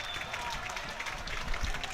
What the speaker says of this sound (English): Getting a healthy round of applause by the main stand and fans down here on my left-hand side.